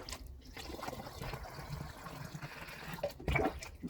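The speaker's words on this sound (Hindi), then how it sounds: "तो इन बोतलों को हम इस प्रकार पानी से भर देंगे।" Water is poured into plastic bottles, making a quiet, close trickling and gurgling fill with small uneven bursts and a slightly louder splash toward the end.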